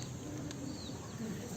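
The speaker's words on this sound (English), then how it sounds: "It's a pigeon there, sunbathing." A pigeon sunbathing on Gibraltar's old city walls gives a soft, low coo under steady outdoor background noise, close and brief.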